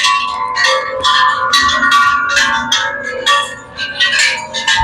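Small bells ring at a Wat Phu Khao Thong temple fair, a bright, clinking series of overlapping strikes in an irregular rhythm, close and fairly loud, with no talk.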